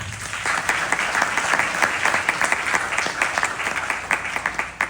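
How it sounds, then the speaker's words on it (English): Devotees at a satsang and yajna gathering in a Hindu temple hall receive a round of applause: dense, steady clapping from a sizeable audience, loud and sustained for the whole stretch with no voices. "Please give them a round of applause."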